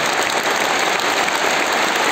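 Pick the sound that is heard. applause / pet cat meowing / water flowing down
applause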